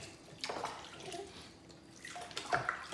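Water splashes and pours in uneven bursts while a baby is rinsed off during a bath, with swooping scoops washing over the body and face, two fuller splashes standing out against a softer, steady trickle.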